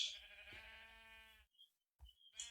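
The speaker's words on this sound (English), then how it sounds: "Then I see those sheep" Sheep in the Minecraft video game give a few short nasal bleats with a brief silent gap between them, clear and close with nothing else in the background.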